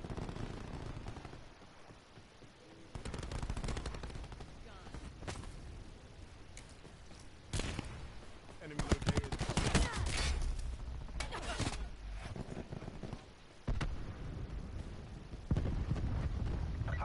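Sustained gunfire in a military first-person shooter, dense bursts of automatic shots and loud cracks over a constant rumble, rising and falling in intensity with brief lulls between volleys.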